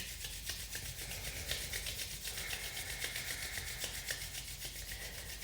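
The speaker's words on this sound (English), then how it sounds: "rub your hands together to generate some warmth" Two hands rubbed briskly together for warmth, a steady close swishing friction in quick even back-and-forth strokes over a low background rumble, with no talking.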